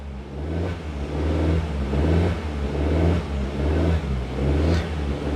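A manual car's engine revs up and down while the driver works the accelerator and clutch to hold it from rolling back. The mid-pitched engine drone swells and eases in repeated waves, close and fairly loud.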